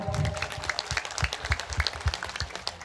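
Scattered applause from a room of Islamic boarding school students during a kitab reading session, distinct individual claps ringing out close and irregular, fairly soft and thinning toward the end.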